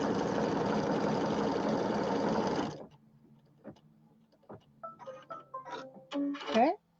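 A sewing machine runs steadily while stitching pieces of fabric for a bench pillow, a dense continuous whir for about three seconds, then stops, leaving quiet room sounds and faint clicks.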